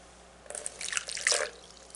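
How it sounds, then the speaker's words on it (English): A quarter cup of warm water pours briefly into a small container for yeast, a short splashing trickle of about a second that rises and then fades, close by. "And this is 1/4 cup of warm water."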